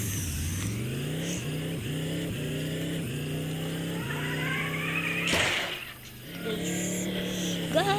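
A car engine in the video game Dude Theft Wars revs through a series of rising gear pulls, each climbing in pitch then dropping, loud and continuous, with a brief crash-like burst near the end.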